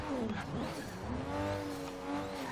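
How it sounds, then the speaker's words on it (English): A twin-turbo Subaru Brat in Forza Horizon 3 revs with a loud droning engine note that rises and falls in pitch, with brief tire squeal at the start. "Now this does not sound like a Subaru engine."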